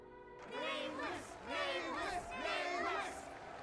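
A crowd in the video game Honkai: Star Rail cheers and shouts in several rising waves, with a steady tone sustained underneath, moderately quiet throughout.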